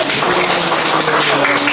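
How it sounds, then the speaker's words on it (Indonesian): Applause in a seventh-grade Indonesian-language classroom, a steady, dense patter of many hands clapping close by for a student, running without pause and with no talk over it. "Tepuk tangan untuk Mas Yain."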